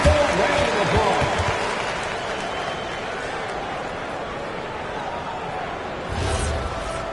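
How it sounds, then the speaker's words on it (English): Basketball playoff arena crowd, a broad steady roar of applause and cheering that swells near the start, stays sustained throughout and lifts again near the end. "Give yourself a round of applause."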